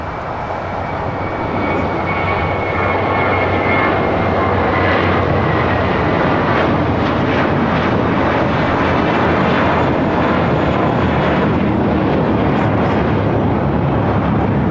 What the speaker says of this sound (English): Got that JetBlue A321 now rolling down 25 right here on the south side.